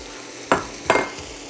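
Sliced white button mushrooms and butter frying in a pan, with two short bursts of stirring and sizzle close by against a quiet background, no talking.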